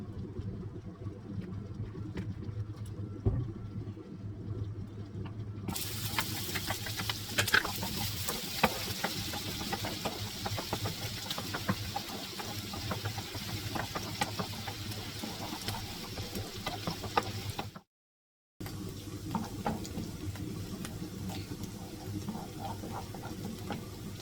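Onions or aromatics being sautéed in oil in a pan for a fresh tomato spaghetti sauce, with a steady sizzle and occasional stirring clicks throughout, briefly cut off before resuming.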